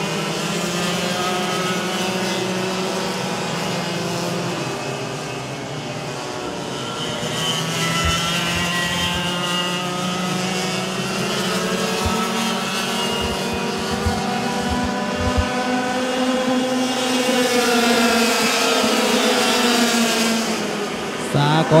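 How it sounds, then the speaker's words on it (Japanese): Junior racing kart engines during a TIA/SS Junior final heat at SL Mizunami, a continuous high buzzing whine of several karts rising and falling in pitch, with a commentator talking over it throughout. "9番手争いをしていた松田しおんですが、5コーナーで動けるか、リスタートは切れるのか。"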